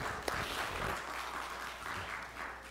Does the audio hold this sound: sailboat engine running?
no